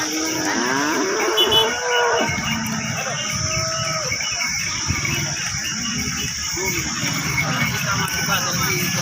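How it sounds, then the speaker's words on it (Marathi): Several cows low repeatedly at the Sangola cattle market, close and loud, with long drawn moos over a steady insect hum and livestock-yard background noise; faint voices are heard. "हे त्यांच्या 5 गायी आहेत"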